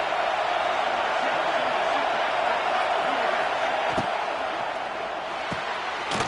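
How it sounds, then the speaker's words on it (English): A broad, steady roar from a stadium crowd in a college football video game hangs at an even level throughout, with a couple of faint thuds near the end and no clear voices. "This crowd bringing the energy and noise early."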